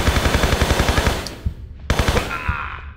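MP5 submachine gun fire in the Tomb Raider 3 video game, Area 51 level: a loud, rapid run of shots, a pause, then another sharp burst with a short trailing echo.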